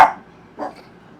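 A puppy barks sharply twice, once loud at the start and again a moment later, both close by, while travelling in an electric RV setting.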